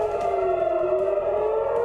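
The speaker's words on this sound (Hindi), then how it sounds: "हाइफा में सायरन की आवाज गूंजी" A civil defense air raid siren in Haifa holds a single drawn-out wailing tone during a missile attack, loud and unbroken, with faint background rumble beneath.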